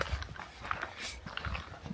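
Dogs pant and snuffle nearby in rough, breathy bursts over a steady outdoor background, with no talking.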